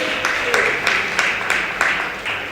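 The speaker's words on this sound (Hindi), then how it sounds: "भले भले ताली बजाओ बाबा के नाम से" Audience clapping at a spiritual Mahashivratri gathering in Ulhasnagar, a steady wash of many hands with periodic louder bursts, moderately loud and continuous over the short stretch.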